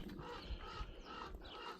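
Puppies growl and snuffle at close range, a steady rough rumble with a few short yips, no talking.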